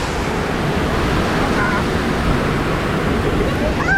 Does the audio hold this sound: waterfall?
yes